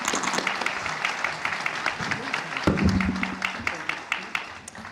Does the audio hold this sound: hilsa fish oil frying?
no